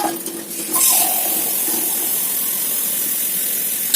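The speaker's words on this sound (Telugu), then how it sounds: "2 చెంబులు అయితే వాటర్ పోసుకోండి" Water poured from a vessel into a cooking pot with rice rava, two measures added; a steady, close hissing splash that swells after the first moment and runs continuously without voices.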